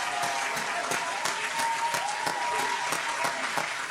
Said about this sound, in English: Gotta give him another round of applause.